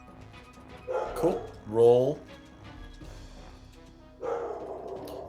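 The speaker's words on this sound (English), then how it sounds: "so sorry if you can hear my dog barking right now." A dog barks and yips a few times in the background while a person talks over it, the barks moderately loud and scattered through the moment.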